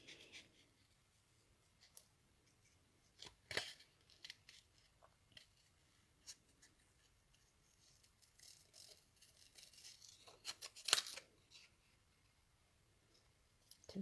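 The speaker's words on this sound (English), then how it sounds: "then I'm just going to cut it out" Scissors snipping through a hand-coloured paper flap card, a scatter of quiet, sharp cuts and rustles spaced irregularly, with a denser run of snips near the end against a faint background hiss.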